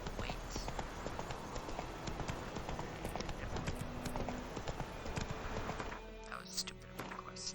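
Roach the horse in The Witcher clip-clops steadily at a brisk gait, hooves thudding in a continuous rhythm under game music and faint voice, slowing and changing near the end.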